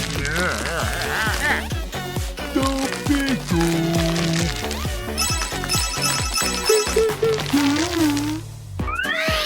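A new phone rings in a cartoon, with a repeating electronic ringtone melody heard among lively voices, cat-like meows and bouncy background music.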